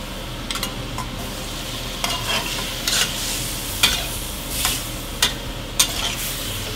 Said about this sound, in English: remember to keep it at high heat all the time. That's a key for stir frying.